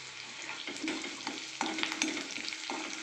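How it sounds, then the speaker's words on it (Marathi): Curry leaves sizzle in hot oil in a pan of fried onions for rice, a steady close frying hiss with a few louder crackling bursts as they hit the fat. "आता मी त्यात कढीपत्ता टाकून घेतो"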